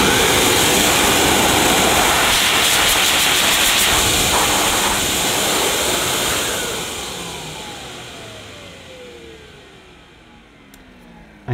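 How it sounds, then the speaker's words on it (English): A Miele vacuum cleaner running as a blower gives a loud, broad rushing whoosh that holds steady, then winds down with a falling whine as the motor spins to a stop. "Yes, look, we can use the Miele as a blower."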